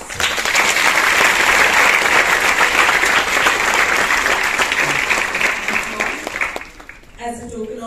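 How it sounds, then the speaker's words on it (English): Loud, dense applause from an audience after a CPR training session at a hospital, sustained for several seconds before fading, with a voice speaking briefly as it dies down. "Can we give a round of applause?"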